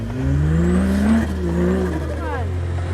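A winch truck climbing a hill during an extreme winch truck race, its engine droning loud and close with shifting pitch as it labors upward, while a voice talks over the motor.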